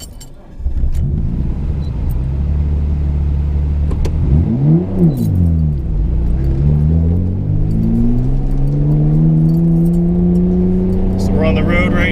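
A 1992 Nissan Skyline GT-R with a full titanium catback exhaust drives on the road, its engine note rising and falling through revs and gear changes, loud and close from inside the car.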